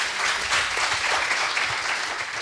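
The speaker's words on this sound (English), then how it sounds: "Hand of applause" Audience applause at a startup and entrepreneurship event in Dar es Salaam, a steady wash of clapping from a crowd that fills the whole short stretch at an even, fairly loud level.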